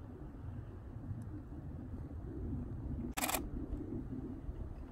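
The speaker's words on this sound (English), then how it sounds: "Gonna get some pictures with the real camera." Single-lens reflex camera shutter firing once, a sharp click over steady outdoor ambience with a low rumble while photographing small red rattlesnakes.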